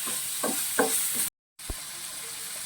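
Dal with tomatoes frying in a pan, a steady high hiss of sizzling broken by a few stirring scrapes, with a brief silent gap in the middle.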